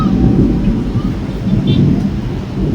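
Thunder during a storm rolls as a continuous low rumble with rain, loud and sustained, heard from a metal balcony with a voice talking over it.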